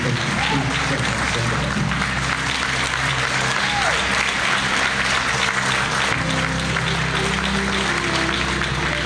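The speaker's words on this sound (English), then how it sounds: "Ladies and gentlemen, big round of applause" Steady, loud applause from a rally audience at an anti-censorship event in Conroe fills the whole span, welcoming Justin Sheffield to the stage, with crowd noise mixed in.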